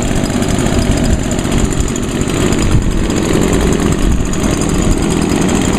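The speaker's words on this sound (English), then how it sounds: "I think the Stihl is a little quieter when it's idling" Two handheld leaf blowers, an Echo PB-251 and a Stihl BG 86, idling outdoors together, giving a steady, loud, unbroken engine drone with a constant low rumble and high whine throughout.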